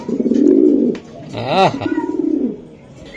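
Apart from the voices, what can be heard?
racing pigeons cooing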